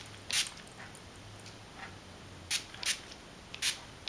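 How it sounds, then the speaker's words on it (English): Detangling spray from a pump bottle mists a half wig in four short, crisp spritzes, one early and three close together near the end, with quiet pauses between. "I'm just going to spray lightly."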